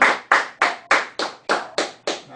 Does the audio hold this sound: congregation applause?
yes